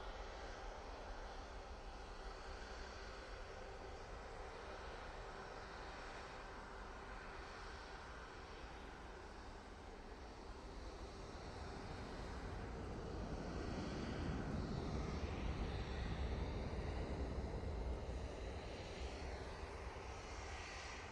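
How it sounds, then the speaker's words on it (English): A Boeing 737-800 jet departing Manchester Airport, heard from a distance as a faint, steady engine roar that swells and grows rougher midway, with no voices. "737-800 is off to Cork."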